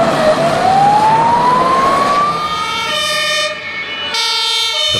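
An emergency rescue vehicle siren wails loud and close, its pitch sweeping steadily upward, then settles into a sustained tone with strong harmonics as the vehicle passes through traffic.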